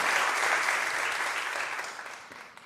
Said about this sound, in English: I hope a round of applause for those interviewees.